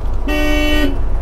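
A single short honk from a 2005 MCI D4500 motorcoach's non-air horn, loud and close, lasting about half a second over a low road rumble.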